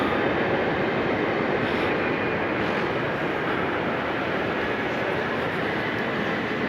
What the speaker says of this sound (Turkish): Arkadaşlar her taraftan tren gidiyor.